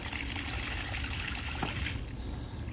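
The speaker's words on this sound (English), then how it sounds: "I got the water turned on up there." Water flows steadily into a ram pump after being turned on, a continuous close rushing trickle with a slight change in tone partway through and no talking.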